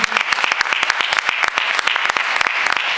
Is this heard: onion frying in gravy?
no